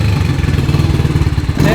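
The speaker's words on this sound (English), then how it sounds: "It actually revs now." A dirt bike with a freshly cleaned carburetor runs loud and close, its engine rising and falling in quick throttle blips over a choppy, rapid firing beat, with a brief louder rev at the end.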